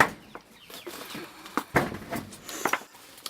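Chickens in a backyard coop give soft, scattered clucks and short calls at close range against a quiet background.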